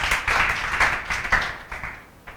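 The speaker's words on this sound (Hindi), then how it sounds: "हर्ष गुप्ता जी के लिए जोरदार तालियां बजा" Students in a classroom clapping for a classmate, a short burst of loud, fairly even group applause that fades away over about two seconds.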